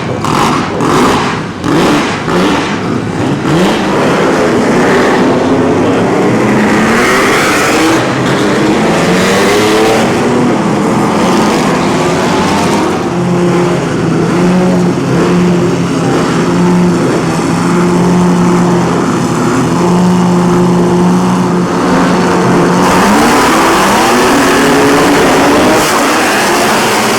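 Historic race cars at the Monaco Historique set off on a warm-up lap, loud engines revving and accelerating close by, with cars passing in succession and a sustained high engine drone building and fading.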